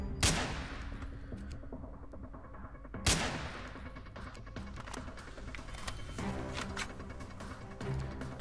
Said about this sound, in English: I keep shooting that dead guy